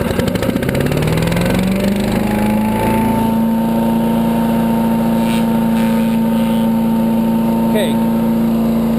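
A 6.5HP 212cc Predator gas engine on a chipper shredder runs steadily at full throttle, a loud continuous droning hum that rises in pitch over the first few seconds and then holds.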